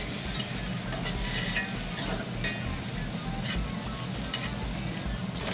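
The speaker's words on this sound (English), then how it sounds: "Now we're gonna add the butter, the rosemary, and the garlic." Steak frying in a pan with butter, rosemary and garlic, a steady loud sizzle and crackle running unbroken throughout, with faint stirring scrapes and no voices.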